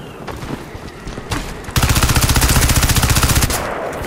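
Gunfire in the shooter Crysis 2, a few scattered shots followed by a loud, rapid automatic burst of evenly spaced reports lasting nearly two seconds, then tapering off.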